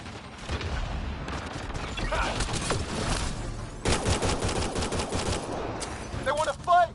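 Rapid automatic gunfire rattles in bursts during a firefight in Mass Effect Andromeda, with sharp repeated shots and a louder volley near the end, mixed with game effects.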